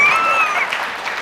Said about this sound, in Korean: 이제 박수 치세요.